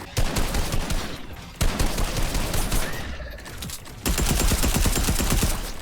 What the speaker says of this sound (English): you could just beam them out of the sky and practice your ADS tracking, or you could use an SMG